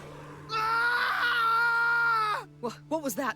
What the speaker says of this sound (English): A scream. A man's, I think.